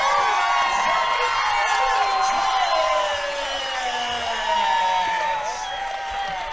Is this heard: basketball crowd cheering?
yes